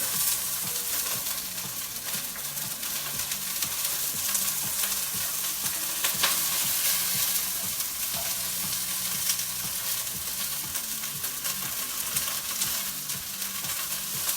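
Steady crackling sizzle of onions browning in a hot pan, a broad hiss that continues without a break, with a faint low hum beneath.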